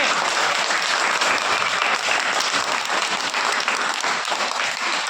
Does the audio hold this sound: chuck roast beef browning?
no